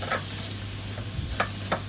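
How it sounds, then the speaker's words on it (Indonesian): Stirring fried ingredients into nasi kuning in a rice cooker: soft scraping stirs with a few distinct strokes over a low steady sizzle and hum, close and fairly quiet, no talk. "kita aduk lagi"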